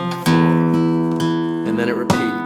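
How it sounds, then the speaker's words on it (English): Flamenco guitar picks out a short traditional falseta, sustained plucked chords with several sharp strummed accents, close and loud with no voice over it. "What we're gonna do next is we're gonna take this super traditional falseta"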